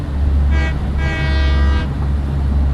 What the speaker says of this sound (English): The horn is as you would expect, but not as cool as it could be.